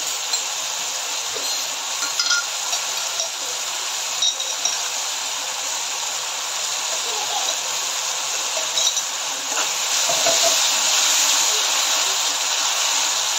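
Red chilli sauce and Schezwan chutney hit a hot wok of street-style homemade noodles, giving a steady loud broadband sizzle and hiss with a few faint clinks, no talking.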